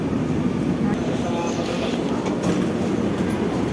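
Inside a passenger train running between stations, a loud, steady low rumble of wheels and carriage fills the whole clip, with a faint tone and muffled talk mixed in.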